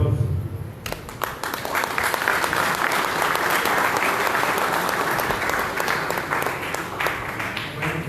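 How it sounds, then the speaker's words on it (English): Sustained applause from an audience at a prize distribution ceremony for a cooking competition in Goa, dense steady clapping filling the whole stretch at an even, loud level with a brief quieter lead-in. "the proactiveness they are showing this year's World Tourism definitely needs an applause"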